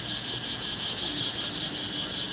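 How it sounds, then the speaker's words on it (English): Cicadas drone in a Bangkok park, a loud high buzzing chorus that pulses in quick regular waves over faint background ambience, with no talking. "You hear the cicadas here?"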